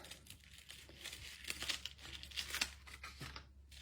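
Paper die-cut flower pieces for a card are peeled away, giving close, quiet crinkling and tearing rustles in short irregular bursts.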